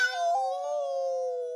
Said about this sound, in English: does meow mean more than one thing?